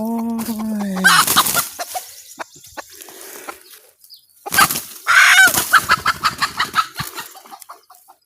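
Chickens cluck and squawk close by in a few loud bursts, with scattered quieter clucks and rustling between them, in a forest.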